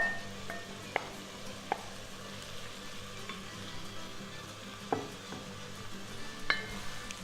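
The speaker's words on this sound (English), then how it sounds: "Let me stir this up" Chopped artichokes being stirred into vegetables in a soup pot, a soft continuous sizzle with scattered sharp clinks of a spoon against the pot, fairly quiet and steady.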